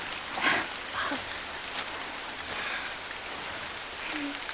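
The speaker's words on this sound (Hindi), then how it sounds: "इस मजेदार बारिश का आनंद लो।" Rain falls in a soft, continuous hiss of drops striking surfaces, fairly faint and steady with a few slightly louder patters.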